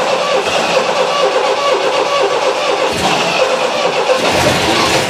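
Engine of a 1965–1980 MGB car idling without a fuel pump: a loud, close, continuous rough running drone with a steady rattle, rising slightly near the middle and end.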